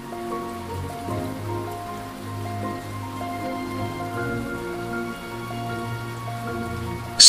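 Steady rain falls and patters on a surface without a break, a dense even wash that keeps going throughout, with faint tonal background sounds underneath.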